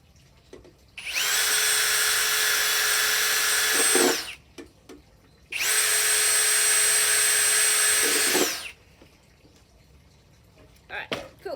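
Two sustained bursts of a power drill whirring, each lasting about three seconds with a short pause between them, as screws are driven into wood for a DIY vertical garden. The drill sounds close and loud.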